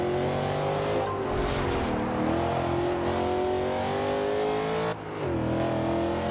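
Porsche sports car engine in Forza Horizon 2, revving steadily with rising and falling pitch through gear shifts, a continuous loud game engine drone with brief dips as gears change.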